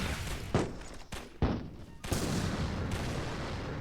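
Gunfire from a toy tank battle in the video game Attack on Toys: Plastic World, with several sharp shot impacts over a continuous bed of battle noise and no one speaking.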